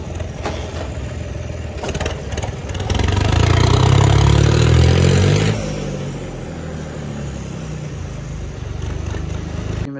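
A John Deere tractor fitted with a new big U-shaped exhaust pipe runs close by with a steady engine drone that swells louder for a few seconds mid-way, then settles back to a rumbling idle.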